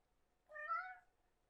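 A house cat gives a single short meow, clear and fairly close, in an otherwise quiet room.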